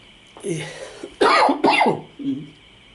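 Several close, harsh coughs in quick succession, with some throat clearing between them.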